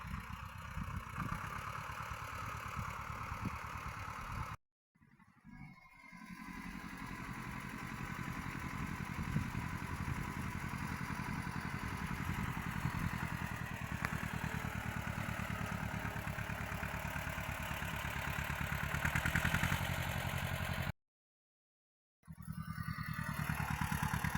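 A motor vehicle driven by a grandfather through a garden during spring field work drones with a steady, mid-distance engine hum that runs continuously and is broken only by two short abrupt silences.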